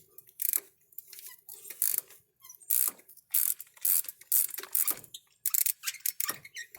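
A hand ratchet working loose a spark plug on a Toyota Tacoma, repeated bursts of crisp clicking strokes in an uneven rhythm, close and clear with short pauses between pulls.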